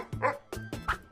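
A dog barks in short yipping bursts, three or four close, loud barks spaced evenly with a slight whimpering quality.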